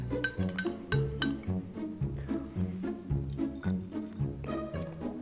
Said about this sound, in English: Just add a scoop to a 12-ounce glass of water and stir.